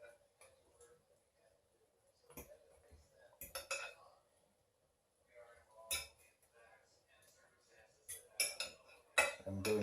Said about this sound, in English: I'm just flipping it over the other side.